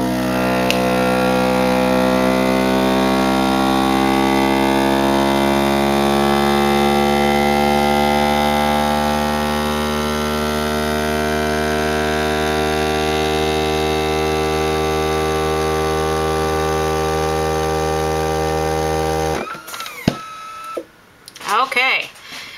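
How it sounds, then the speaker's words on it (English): A Foodsaver 4840 vacuum sealer runs with its jar accessory port engaged, holding a steady loud motor hum whose pitch slowly rises for about nineteen seconds before it shuts off, followed by a few brief clicks and handling noises. "we're going to press our accessory button and listen to the tone of the machine"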